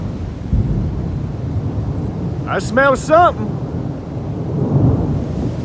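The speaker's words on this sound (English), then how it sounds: "We're supposed to have a tornado, but it is just pouring down rain." A thunderstorm with pouring rain in Sapulpa, Oklahoma rumbles as a loud, steady low roar with wind-like noise on the microphone, while a person speaks briefly in the middle.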